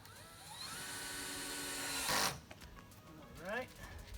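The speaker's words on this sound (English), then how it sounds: "So let's get a few more screws in here." A power drill drives screws into a wooden form built for casting mulchcrete, giving a close, steady whining buzz for about two seconds that ends in a sharp burst, followed by quieter handling noises.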